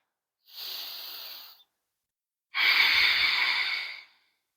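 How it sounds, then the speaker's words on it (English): Two slow, deep breaths during a yoga practice, a soft airy inhale followed by a longer, stronger exhale, close and alone in silence. "Take another cycle of breath."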